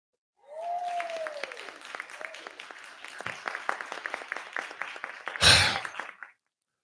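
A round of applause made of sparse, evenly spaced claps that follow a short gliding tone and end with a loud burst of noise.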